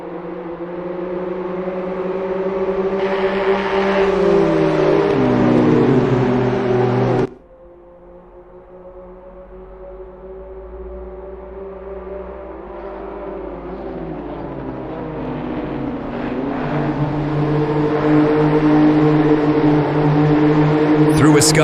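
BMW M2CS race cars scream along a track with sustained high-revving engine tones, a sharp downshift and drop in pitch midway, then climbing revs as the pack accelerates, with commentary talking over the engines.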